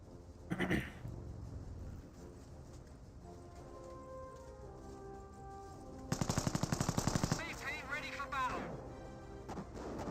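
Half-track machine gun fire in Company of Heroes, a fast burst of rattling shots rising over busy battlefield noise and a commentator's steady talk, followed by further scattered gunfire.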